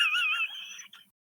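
A person's voice imitates Kermit the Frog with a brief, nasal, croaky utterance that wavers in pitch and then trails off into silence.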